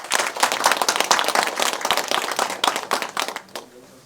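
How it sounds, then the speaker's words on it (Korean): An audience claps steadily at an Incheon Dong-gu district council policy forum, a dense patter of hand claps that thins out and stops near the end. "큰 박수로 맞이하겠습니다"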